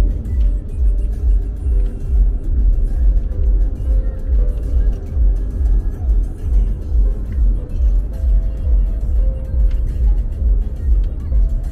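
A car drives along a rain-soaked single-lane road toward Kerala at slow speed, its engine and tyre rumble loud and steady throughout with no speech.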